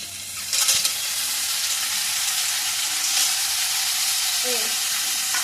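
Whole pieces of taro sizzle in hot oil in a pan, a steady loud hiss that fills the space and holds from start to finish, with a few small clinks near the beginning.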